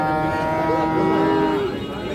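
A cow, a milking cow at a cattle market, gives one long, close, loud moo that rises and then falls, with low market noise behind it.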